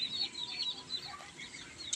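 Chickens and ducks kept as backyard poultry make faint, distant clucking and chirping calls that repeat through a steady outdoor hum, with no talking.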